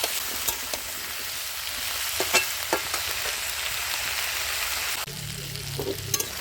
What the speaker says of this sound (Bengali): কুমড়ো আলু বেগুন দিয়ে দিলাম। সবজিটা ভেজে নেবো ভালো করে।